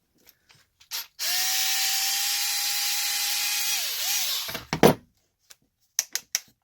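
A power driver or drill whirs steadily for about three seconds while backing screws out of a Redcat Kaiju RC car's bumper and skid plate, ending with a pitch drop and rattling clicks, then a few sharp taps.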